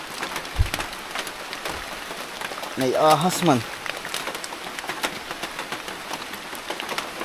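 Heavy rain falls steadily and hisses throughout, with a train-like rumble rising briefly in the middle. People talk over it in Filipino.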